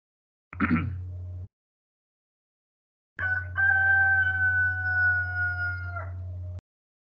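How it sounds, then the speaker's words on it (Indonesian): A rooster crows during daytime, a brief first call followed by a long sustained cock-a-doodle-doo lasting about three seconds, loud and clear against an otherwise silent background. "Siang-siang ada jago."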